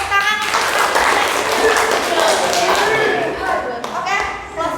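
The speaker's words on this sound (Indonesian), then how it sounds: "Iya, tepuk tangan." Students in an Indonesian classroom clap during a teaching session, a short burst of close, fairly loud clapping mixed with voices and chatter.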